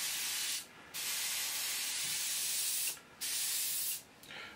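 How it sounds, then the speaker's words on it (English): Airbrush spraying primer onto a model, three steady bursts of hissing spray separated by brief pauses, close and continuous. "we'll see how it's coming through the airbrush"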